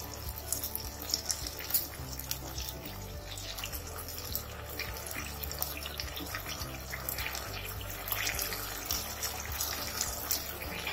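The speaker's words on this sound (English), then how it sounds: "And I'm going to add water." Water running into a pan while cooking chilli paneer, a steady splashing pour with a low kitchen hum underneath, fairly loud and continuous throughout.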